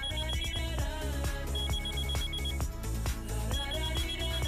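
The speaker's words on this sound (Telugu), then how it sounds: "ముందు ఫోన్ కాల్." A phone ringing for an incoming call in a Telugu comedy scene, with a repeated ringtone pattern over steady background music.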